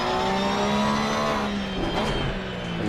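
Race car engine in Assetto Corsa Competizione accelerating out of a pit stop, a loud sustained whine climbing in pitch through the gears with a rough roar layered beneath.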